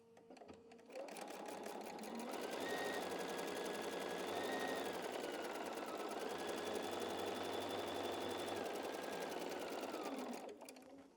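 A sewing machine runs steadily for about ten seconds, stitching a pieced quilt block seam for a Ten Square Scramble block, with a constant whirring motor hum close by and no talking.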